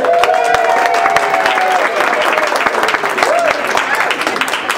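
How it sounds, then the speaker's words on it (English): Grown-ups in a church congregation applaud to welcome the Imagine kids, a dense, steady clapping that fills the room, with cheering voices and brief calls rising over it. "welcome with your applause our Imagine kids who are in here"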